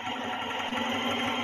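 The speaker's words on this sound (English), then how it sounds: "No, that was the sound of the bike on the game." Steady droning engine of a motorbike in a video game, a continuous buzzing hum that holds at an even level throughout, with no voices.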